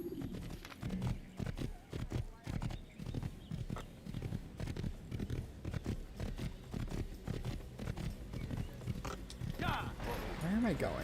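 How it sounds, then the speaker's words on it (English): A horse gallops in Assassin's Creed, with rapid, steady hoofbeats running throughout at close range while someone talks over them. "Get on horse."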